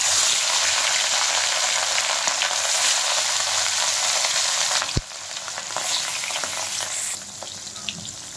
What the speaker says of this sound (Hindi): अभी तेल गर्म हो गया, हम मछली दे देंगे।